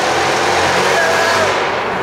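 A car's loud exhaust booms inside a road tunnel, a dense, constant, echoing roar that fills the whole clip without letting up.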